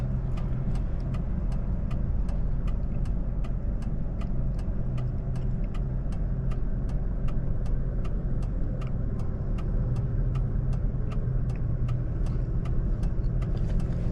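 A 2003 SVT Cobra runs at higher RPMs on an interstate highway, giving a steady, full engine and road drone that continues throughout, with a faint, regular ticking over the top.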